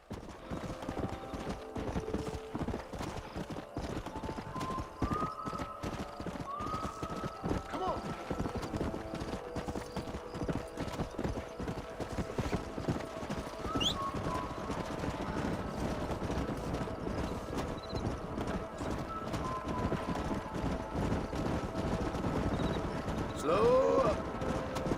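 Horse hooves clatter steadily in Red Dead Redemption on Xbox Series S, with a brief whinny near the end, under game sounds and intermittent talking.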